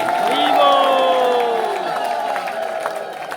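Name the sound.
crowd applause and ululation at ISKCON Mayapur welcome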